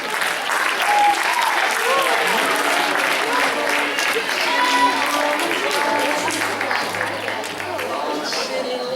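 At a school charity concert in a hall, the crowd breaks into loud, sustained applause for people invited onto the stage, with murmuring voices and crowd babble mixed into the clapping.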